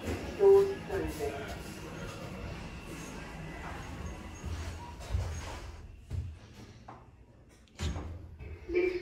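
Doors of a brand new duplex Pickerings lift at a Morrisons store in Margate slide shut with a soft rumble and a few thuds amid shuffling store ambience, along with an automated voice announcement.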